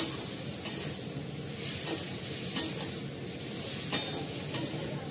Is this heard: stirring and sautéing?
yes